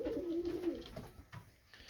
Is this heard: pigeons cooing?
yes